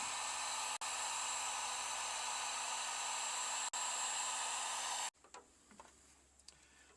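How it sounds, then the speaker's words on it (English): A heat gun blows a steady, even whooshing hum over heat shrink tubing on fuel sending unit wiring, cut off by two brief dropouts before switching off, leaving faint clicks and handling noises. "Now we can slide the heat shrink up into position and take your heat gun and seal that bad boy up."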